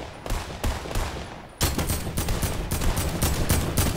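Rifle fire in the video game Fortnite: a rapid burst of loud, close shots, a short pause, then a longer sustained volley of evenly spaced cracks with no talking.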